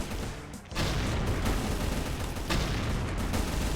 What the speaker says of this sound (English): So I'm just going to stick to the classic double barrel shotgun.